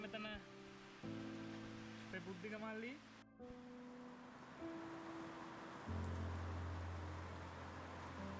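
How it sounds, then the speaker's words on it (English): Steady rain hisses down in the Sinharaja rainforest, Sri Lanka, across a broad wash of noise, continuous and moderately loud, with some tonal background hum shifting underneath. "An unexpected rain for Sinharaja rainforest"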